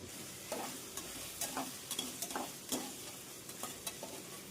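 Carrot and knol-khol pieces frying in a pan, a quiet, steady sizzle with regular soft scraping stirs roughly every half second, close but faint.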